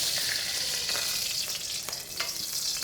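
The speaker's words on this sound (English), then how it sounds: "That sizzle is really important." Black pepper beef and potato stir fry sizzling loudly in a smoking hot wok, a dense continuous hiss of frying oil with occasional scraping stirs, close and without talk.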